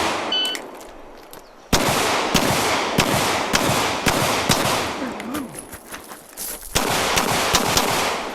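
M&P9 M2.0 Performance Center pistol firing at an outdoor USPSA classifier match: sharp, loud, evenly spaced shots in quick strings with brief pauses, plus distant shots from other bays.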